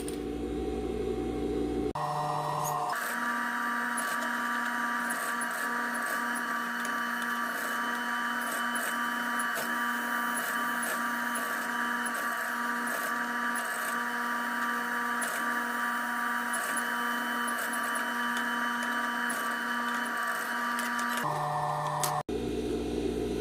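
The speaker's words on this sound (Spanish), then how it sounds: "voy a coser todo el contorno en cámara rápida" A sewing machine stitches around the edge of a fabric bucket hat with a continuous, even mechanical whir. It runs steadily for about twenty seconds, with brief pauses at the start and end.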